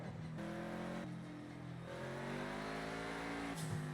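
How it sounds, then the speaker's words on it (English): A small roadster race car with a little Boxster engine, driven in a video game, revs and shifts through gears, its engine tone climbing and then dropping with each change, loud and close, with faint tire noise beneath. "It's just a little freaking roadster style car."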